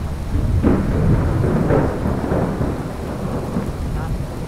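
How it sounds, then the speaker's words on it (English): A thunderstorm rages in Skyrim Special Edition, with loud rolling thunder rumbling over a dense wash of heavy rain, the storm sustained and close for the whole stretch. "I can't hear you over the thunderstorm"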